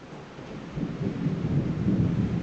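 Low rumbling thunder rolls and swells under a steady wash of rain in Uganda, growing louder toward the end.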